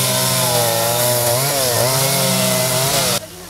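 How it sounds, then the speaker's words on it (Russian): A chainsaw carving a wooden sculpture at an international wood sculpture festival in Altai, its engine droning loud and steady with the pitch dipping and rising as the blade bites, then cutting off abruptly near the end. "Идти на звук пилы – вот такая атмосфера на международном фестивале деревянной скульптуры «Алтай Притяжения»"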